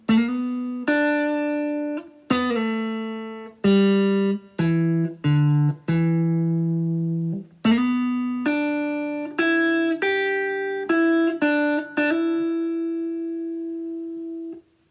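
A clean guitar plays a bluesy lick of single notes and bends, phrases separated by short pauses, close and clear with no talking.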